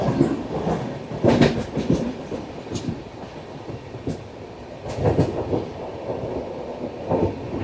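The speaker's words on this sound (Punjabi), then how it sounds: "ਕਿੰਨਾ ਸੋਹਣਾ ਕਰਵ ਲੈਂਦੀ ਹੋਈ ਟ੍ਰੇਨ" A train rumbles steadily along the track as it rounds a curve, wheels clattering rhythmically over joints, with a loud and continuous roar heard from inside or close by.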